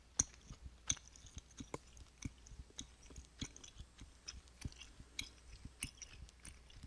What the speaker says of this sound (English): I know it's boring just to listen to me chew gum